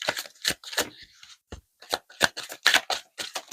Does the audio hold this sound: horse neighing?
no